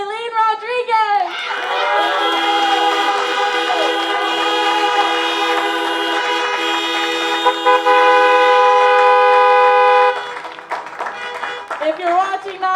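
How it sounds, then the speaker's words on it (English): Many car horns honk together at a drive-by graduation celebration, a loud sustained chorus of overlapping toots lasting several seconds, with voices briefly before and after. "So everybody give a big car honk"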